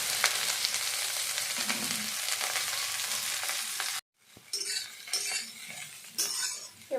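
Taro flowers hit hot oil with mustard seeds and whole dried red chilies, giving a loud continuous sizzle. After a brief cut the sizzling returns quieter, broken by scraping and stirring in the pan, with no talking.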